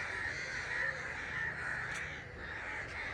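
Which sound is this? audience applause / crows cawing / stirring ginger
crows cawing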